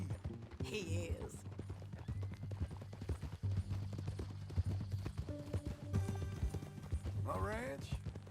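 Horse hooves clip-clop steadily through a Red Dead Redemption 2 ride, with a whinny or two and voices talking over the trotting.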